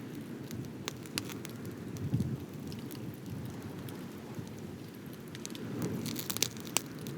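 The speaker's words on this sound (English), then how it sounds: "just settling into that sound, the wind, the flames, the crackling wood" Campfire flames and crackling wood at a lakeside fire at Lake Powell, a soft steady rush with scattered sharp pops and snaps, moderately close and fairly quiet, with no talking.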